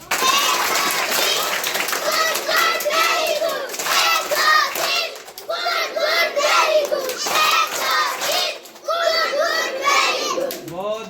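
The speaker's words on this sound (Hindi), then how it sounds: "एक बार अपने लिए जोरदार ताली हो जाए।" A room of young students breaks into loud applause, bursts of clapping rising and falling in waves, with children's chatter and shouting under it.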